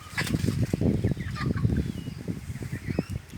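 Farm chickens roam around a house, giving a close run of rapid low clucks and gobbling calls, busy and continuous without talk.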